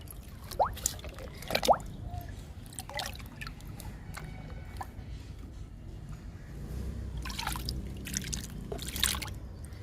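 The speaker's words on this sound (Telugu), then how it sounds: "కొంచెం మట్టిని కదిలిచ్చి ఇవ్వాలండి లిక్విడ్స్ని ఇప్పుడు ఇస్తున్నాను" Liquid fertilizer poured onto loosened plant soil, with soft splashing and dripping bursts early and again near the end, close and fairly quiet over a low background hum.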